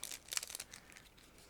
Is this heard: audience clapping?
no